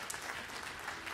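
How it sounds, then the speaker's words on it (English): Audience applause at a choir and band district clinic event at Northwest College in Wyoming, a steady wash of clapping heard at a moderate, somewhat distant level. "please give him a big round of applause"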